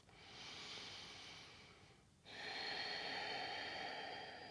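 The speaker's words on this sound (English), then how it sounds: "Take one more breath." A yoga instructor takes a long, audible breath at close range: a soft airy inhale over about two seconds, a brief pause, then a steady, slightly louder exhale, with no talking.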